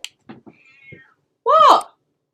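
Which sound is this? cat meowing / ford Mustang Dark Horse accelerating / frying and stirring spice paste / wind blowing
cat meowing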